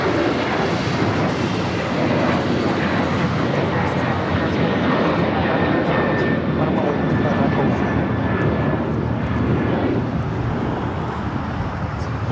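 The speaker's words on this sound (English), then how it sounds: "Alaska Airlines Flight 6 heading to Reagan National, 737-800, now taking off" Alaska Airlines Boeing 737-800 taking off from Los Angeles LAX toward Reagan National: a sustained, fairly loud jet roar that grows slightly, then eases toward the end.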